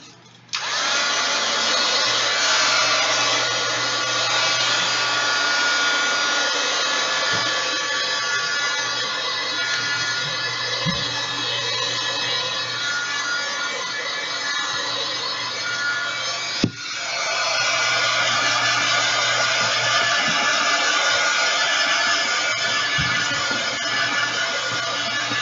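Hair dryer blowing steadily to dry watercolor paint, a loud continuous broadband whoosh that runs almost without a break, dipping briefly once before resuming.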